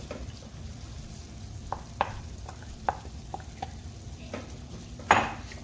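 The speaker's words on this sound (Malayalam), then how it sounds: "നേരത്തെ നമ്മൾ വഴറ്റി വെച്ചിരിക്കുന്ന ബീറ്റ്റൂട്ട് കൂടി ഇതിലേക്ക് ചേർത്ത് ഇളക്കാം." A spoon stirs sautéed beetroot into a beetroot pickle mixture in a pan, giving several soft scrapes and a few sharp metallic clinks. A faint sizzle continues underneath.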